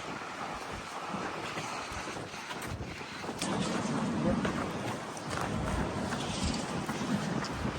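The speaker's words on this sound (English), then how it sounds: "It's so windy." Strong wind gusts across a hiking trail near wind turbines, a broad rushing roar buffeting the microphone that swells midway and stays loud.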